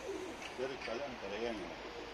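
Soft, low cooing from domestic pigeons of Kırıkkale and Ankara breeds close by, repeated warbling phrases blending with a murmur of background noise.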